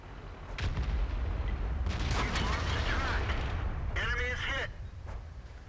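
Tank guns trade shots in World of Tanks, deep booming blasts over a constant loud engine and battle rumble, with a short warbling tonal sound near the end.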